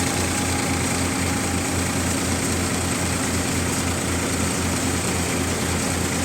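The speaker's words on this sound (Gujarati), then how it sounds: "ટ્રેક્ટર લગભગ અગિયારસો આરપીએમ પર ચાલે છે" A tractor engine runs continuously at about 1100 rpm powering a thresher, loud and close, with a low rhythmic throb and no talking.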